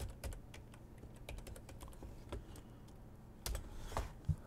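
Fast, irregular clicking of a computer keyboard being typed on, close and fairly quiet, with a few heavier keystrokes near the end and no talking.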